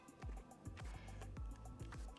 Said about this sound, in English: now we're going to pour it into our crust, just like this